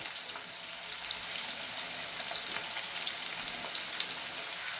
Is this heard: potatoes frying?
yes